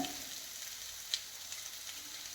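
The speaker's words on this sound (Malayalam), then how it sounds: "ഇനി ഇതിലേക്ക് മുട്ട ഇടുകയാണ്." Eggs go into a pan of sizzling capsicum masala for a Kerala-style egg roast, giving a soft, steady frying hiss with one small sharp tick partway through, quiet and without talk.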